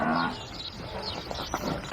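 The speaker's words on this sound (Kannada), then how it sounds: "ಎಮ್ಮೆ." A buffalo gives a low drawn-out moo, fairly close and moderately loud, lasting about two seconds.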